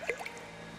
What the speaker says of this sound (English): Water falling somewhere nearby, echoing in the suffocating quiet.